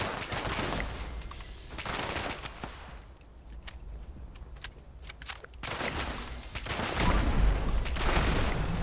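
Sentry bot in Fallout 76 firing in a game battle, with bursts of rapid gunfire and loud, dense volleys returning in waves over a steady background.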